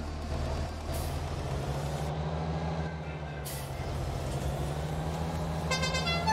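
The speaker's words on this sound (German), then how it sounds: "Ah, die Hupe ist so satisfied." A truck in the farming game Farming Simulator 19 idles with a low, steady engine hum, broken by sharp hissing air-brake bursts, then a bright horn toot near the end, with no voices.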